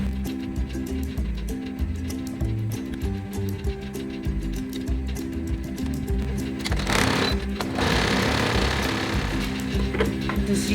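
A sewing machine stitches the fitting seam of a kameez, a loud close rapid needle rattle running continuously, with a brief shift in pitch and some fabric handling partway through.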